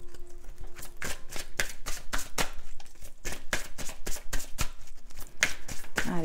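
Oracle cards being shuffled by hand, a close, steady run of crisp riffling flutters and soft slaps that continues throughout.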